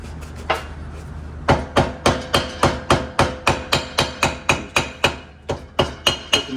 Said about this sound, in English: You tap around the edges. Probably sounds like I'm beating the crap out of it, but I'm not. It's just loud.